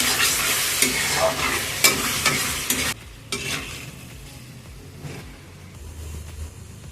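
Chicken liver with pepper and coriander stir-fried in a pan for a semi-gravy: a loud scraping sizzle with repeated spatula stirs over the first three seconds, then a quieter steady frying hiss.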